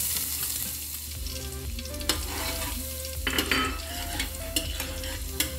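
Butter and a little cooking oil sizzle steadily in a hot pan for salted egg chicken wings, with a continuous close crackle broken by a few sharper pops and light stirring clinks.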